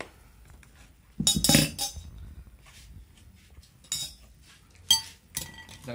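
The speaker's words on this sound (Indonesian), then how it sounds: "Kita kasih es batu lagi, enggak apa-apa." Ice cubes dropped into a glass of a homemade soda drink with nata de coco, giving a loud clattering clink followed by several sharper, scattered clinks.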